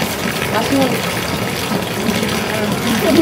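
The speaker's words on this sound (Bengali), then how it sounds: "মাথায় জল টল দিয়ে দাও" Water pours over a person's head at a swimming pool, a loud steady gushing splash close by that fills the whole stretch, with voices faintly mixed in.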